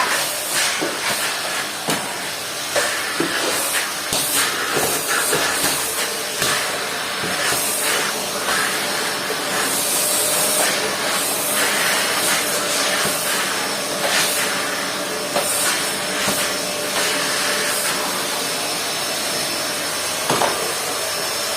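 A vacuum cleaner runs steadily throughout, a continuous loud hissing roar with occasional brief bumps and scrapes, no talking.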